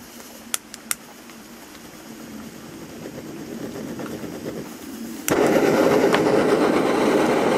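An Optimus Polaris tactical camping stove under pump pressure: a couple of sharp clicks, then a rising hiss that jumps into a louder, steady roaring burn near the mic.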